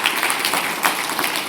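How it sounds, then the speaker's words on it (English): Audience round of applause at a fireside chat with an author, many hands clapping in a continuous, fairly loud and close wash. "a big, noisy round of applause for Tade"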